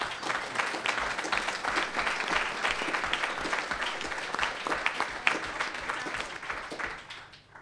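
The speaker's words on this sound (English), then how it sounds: "Wendy, can I just move that we clap you?" Audience applause for Wendy Bacon at an NGO media forum panel, a steady broadband patter of many hands clapping at close range throughout, fading slightly at the very end.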